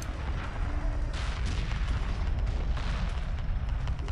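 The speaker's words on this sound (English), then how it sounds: "The cruiser has been destroyed." A cruiser spaceship blowing apart during a space battle in the Homeworld video game, heard as a dense, sustained roar of booms and crackling blasts that swells partway through and stays loud without letup.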